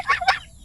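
Honking goose calls on a homestead farm in the Philippines, two loud close squawks in quick succession, then quiet.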